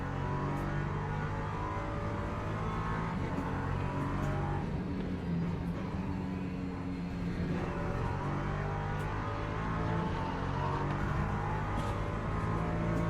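A Porsche in a racing video game, its engine a steady loud drone that holds throughout, with slight shifts in pitch as the car accelerates and no gaps.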